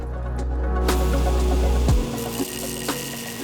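A belt grinder shaping a knife blade gives off a loud, continuous whirring grind that drops away partway through. A few lighter scraping contacts follow in the quieter remainder.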